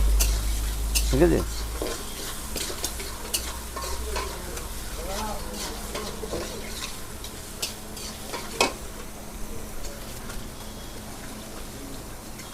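Paneer fried rice frying and being stirred in a hot pan at a hotel kitchen, steady sizzle with repeated scraping stirs and clinks, close and continuous, with a brief spoken remark.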